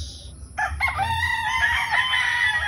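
Chickens at a poultry farm: a rooster crows loudly and close while hens cluck around it, over a low background rumble.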